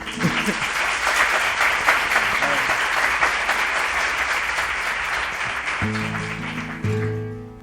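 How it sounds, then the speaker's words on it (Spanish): An audience applauds guitarist Víctor Rosso at a live flamenco gathering in Cádiz, with dense, steady clapping that fills the room for several seconds before guitar notes and a voice come in near the end. "Un aplauso para él ahí."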